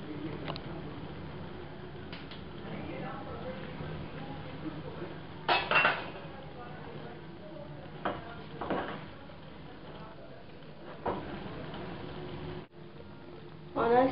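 Spaghetti tossed and mixed in a pan with a utensil, soft scraping and stirring with a few sharper metallic clinks and knocks against the pan at irregular intervals, fairly quiet and close.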